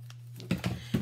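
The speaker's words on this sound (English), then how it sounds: "I just cut my edges," Scissors snipping through the corners of a Mylar food-storage bag, three short crisp cuts in quick succession over a steady low hum, close and fairly quiet.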